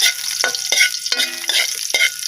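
Ginger and garlic fry in oil with a bright, continuous sizzle, close by, punctuated by several short scraping stirs of a utensil in the pan.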